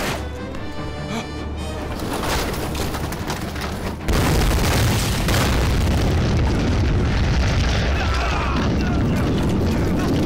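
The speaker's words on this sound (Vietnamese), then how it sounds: "tiếng súng và tiếng nổ truyền tới từ phía phượng đầu lĩnh" Booming explosions and crashing blasts in a war film about fighting the Japanese, loud and continuous, with a heavier surge of rumbling roar midway.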